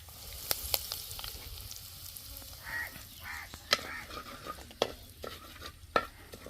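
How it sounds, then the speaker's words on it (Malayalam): Curry leaves dropped into hot oil with popping mustard and fenugreek seeds, crackling in sharp irregular pops and bursts of sizzle close by, with stirring, while pickling river clam meat. "കടുക് പൊട്ടിക്കഴിഞ്ഞ് നമുക്ക് അതിലേക്ക് കറിവേപ്പിലിട്ട് കൊടുക്കാം"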